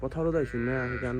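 A sheep bleating near and loud in a village field, two wavering, nasal cries back to back while someone speaks at the same time.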